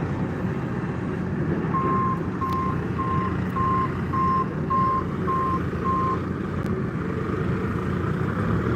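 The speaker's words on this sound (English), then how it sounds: "That's the pipe layer making that noise." Reversing beeps from a pipe layer, a steady series of evenly spaced beeps sounding at a moderate distance over constant engine rumble and outdoor noise.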